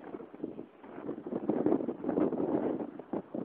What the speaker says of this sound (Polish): Bardzo zły wiatr, strasznie silny.